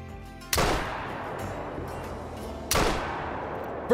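Two heavy elephant rifle shots ring out during a grizzly hunt in the video game Call of the Wild, each a sharp loud blast with a long rolling echo, spaced about two seconds apart, with a faint third report at the very end.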